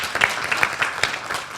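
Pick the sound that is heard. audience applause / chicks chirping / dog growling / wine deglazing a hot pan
audience applause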